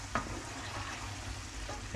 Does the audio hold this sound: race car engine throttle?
no